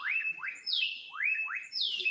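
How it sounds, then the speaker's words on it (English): Birds chirp outdoors in a close, clear series of bright two-part whistled calls that repeat in a steady rhythm, with no voices. "Hear all the birds chirping."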